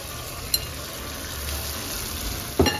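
Small prawns fry in a pan of roasted masala and yogurt, a soft steady sizzle with a brief clink early on and a louder stirring scrape near the end.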